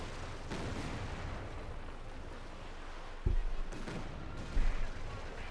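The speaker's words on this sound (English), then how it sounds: "Now the Katyusha barrage there, probably trying to catch something being repaired." A Katyusha rocket barrage in a Company of Heroes 2 battle, a continuous roar of distant fire with a few sharper, louder impact thuds near the end.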